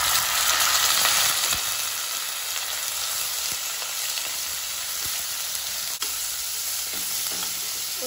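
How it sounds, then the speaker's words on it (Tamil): Chicken frying with softened onions in a pan sizzles loudly and steadily, with occasional scrapes and knocks from stirring and no voices. "இப்போ வெங்காயம் நல்லா வதங்கிடுச்சு இப்போ வந்து நம்ம சிக்கன் ஆட் பண்ணிக்கலாம்"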